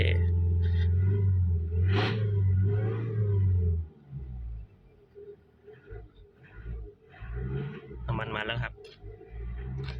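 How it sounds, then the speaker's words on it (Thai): A Mazda2 with a 1.5 Skyactiv diesel engine, slightly stuttering, revs loudly for about four seconds, then drops back to a low idle. Quieter clicks and faint voices follow. "อึกๆหน่อยนะครับ ตอนเร่งเครื่องนะครับ"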